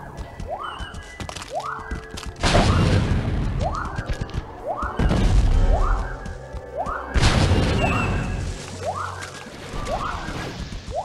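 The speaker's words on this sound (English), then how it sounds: "Grenade!" Grenade blasts in the Star Wars Battlefront II shooter on PS2, online multiplayer: three loud, booming explosions with crashing debris roughly every two and a half seconds, over a constant bed of battle noise and siren-like whoops.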